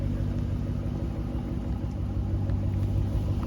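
An SRT Jeep engine runs at a steady idle close by, a low continuous rumble with no change in pace over a few seconds.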